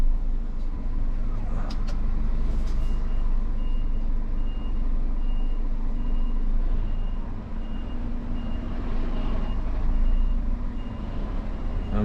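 A truck making a long reverse down a narrow residential street gives a steady series of evenly spaced reversing beeps over its low engine rumble, close and continuous throughout.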